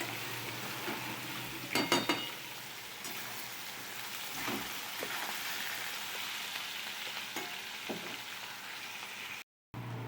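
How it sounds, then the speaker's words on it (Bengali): A whole large onion fries in a pan with a steady, broadband sizzle, broken by a few louder crackles and stirring clatters near the start and again midway, with a brief dropout toward the end. "একটা গোটা পেঁয়াজ দিয়ে দিচ্ছি বড় দেখে, এটাকেও ভালো করে ভেজে নেব"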